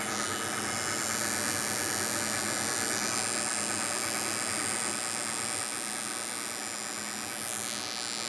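A 12 volt DC CDI with Hall switch triggering fires a spark plug while a lathe runs backwards, producing a continuous loud dense buzzing hum with a steady high whine that barely varies from start to end.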